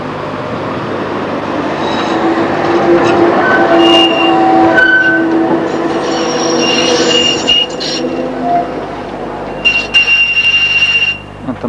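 A Stuttgart metre-gauge tram passes close by inside a tunnel, its rumble filling the space while sharp wheel squeals ring out over steady rolling noise for the whole stretch.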